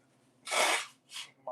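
One forceful, breathy sneeze bursts out, followed by a shorter, softer sneeze or snort a moment later, before a voice starts to speak.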